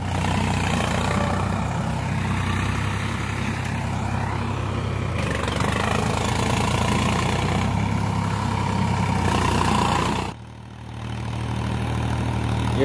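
A Sonalika DI-50 tractor drives through a farm field, its diesel engine droning steadily and loudly, with a brief drop in the sound near the end before the engine note picks back up.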